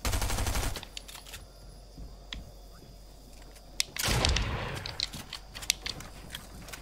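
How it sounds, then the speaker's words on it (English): Rapid SMG bursts from a Fortnite match, a loud burst opening, a quieter stretch with sharp mechanical clicks, then another dense volley of automatic fire with scattered single shots. "Pressure him with that SMG."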